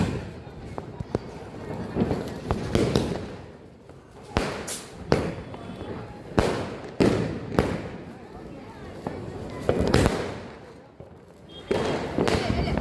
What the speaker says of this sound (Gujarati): હવે 12 ધડાકાનો ધમાકો કરી છે